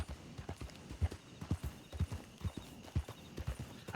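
Rhythmic clip-clop of horse hooves at a steady trot in a roleplay video game, fairly faint, with soft background noise and no speech.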